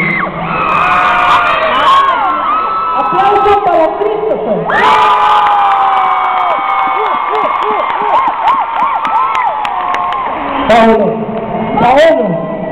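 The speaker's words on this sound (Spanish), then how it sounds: "Aplausos para Paolo." A lively audience cheers, whoops and applauds at a debate event, with shrill children's shouts and excited voices rising and falling in bursts over a steady crowd roar.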